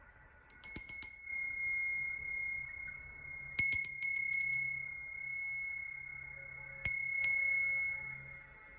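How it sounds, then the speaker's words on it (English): A small handheld bell rung alone in a quiet room, three bright rings a few seconds apart, each leaving a long, pure, sustained tone that slowly fades. "I'm getting ready to ring this beautiful bell of mine"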